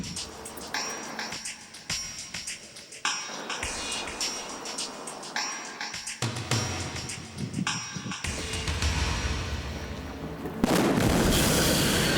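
A series of sharp booms and blasts from a staged explosion on a TV drama set, several distinct hits followed by a louder sustained roar near the end, fairly close and loud.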